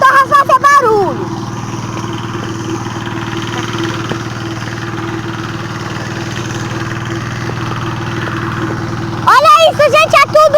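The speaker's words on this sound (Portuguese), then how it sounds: "Agora eu vou chegar perto do motor e fazer barulho." A small engine runs up close outdoors at a grandmother's house, a steady low hum that holds throughout, with voices talking over it at the start and end.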